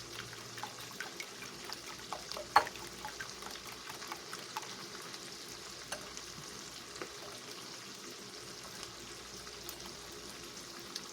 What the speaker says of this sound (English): it may take you a few minutes to break up all of those yolks